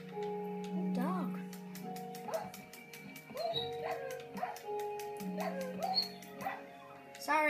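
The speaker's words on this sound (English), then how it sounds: "Oh, dog." Dog yipping, whimpering and barking in a Minecraft hunger games map, several short high cries spread through the clip over a steady background tone, with a voice talking at times.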